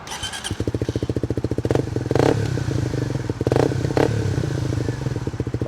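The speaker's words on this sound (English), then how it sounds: "let's fire it up and let's have a listen to that exhaust" A Suzuki GSX-S 125 motorcycle is started, then idles with a steady, rapid exhaust putter, broken by a couple of short throttle blips, heard close and clear.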